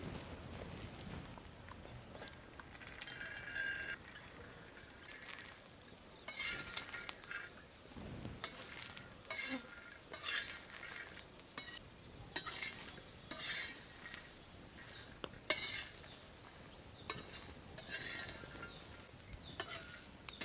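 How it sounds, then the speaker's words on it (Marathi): Pigeon pea seeds dry-roasting in a pan while being stirred, a soft, steady scraping and rattling of grains against metal with faint sizzle, fairly quiet and continuous throughout. "हे दाणे हे भुजून घेतो"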